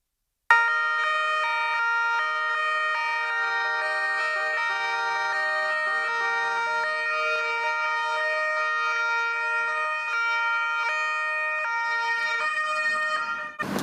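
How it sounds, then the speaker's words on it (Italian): Sirens from police and carabinieri cars sound together in Treviso to honour three fallen carabinieri, a loud sustained chord of wailing tones holding steady for over twelve seconds with no speech. "Il suono delle sirene delle auto delle forze dell'ordine per ricordare i 3 carabinieri morti"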